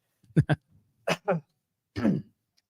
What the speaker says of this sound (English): We're all coughing and sputtering.